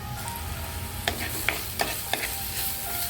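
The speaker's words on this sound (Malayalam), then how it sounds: "അതിൻ്റെയും പച്ചമണം മാറുന്നത് വരെ നമുക്കിത് നന്നായിട്ടൊന്ന് വഴറ്റിയെടുക്കാം" Crushed ginger and garlic sauté in a pan with a continuous close sizzle and a few sharp spoon taps as they are stirred, with no one speaking.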